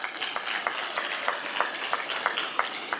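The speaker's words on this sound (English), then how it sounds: "Let's clap for that." Scattered clapping from a small group, a few distinct hand claps standing out in steady, moderate applause throughout.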